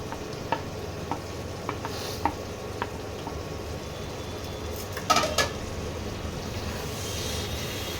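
Prawns being stirred into a potato curry in a pan, a soft steady simmering sizzle with scattered light scrapes and clinks of a spoon against the pan and one louder clatter near the middle, no voices.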